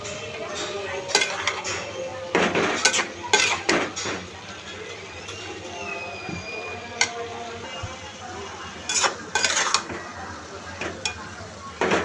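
Chopped unripe green tomatoes mixed with spices are stirred and fried in an uncovered pan, giving a low sizzle broken by repeated scraping strokes and sharp clinks of a utensil against the pan, with a voice faintly present.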